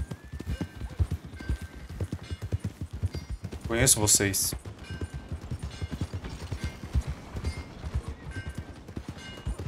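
A horse's hooves in Red Dead Redemption 2 clip-clop in a fast, steady gallop throughout, with a brief burst of louder noise midway and someone speaking a few words.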